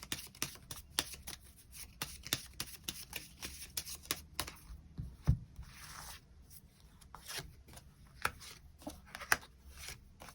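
Tarot cards being shuffled and drawn for a reading, soft rapid riffles and flicks of card stock in an irregular patter, quiet and close, with no voices.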